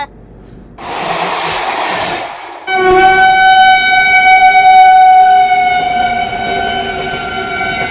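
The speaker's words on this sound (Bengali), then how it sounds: "পাস করছে রাজধানী express Dibrugarh two new Delhi" Rajdhani Express on the Dibrugarh to New Delhi route passing close by, with a loud rumble of rail cars followed by a long, sustained blaring train horn that holds steady for several seconds.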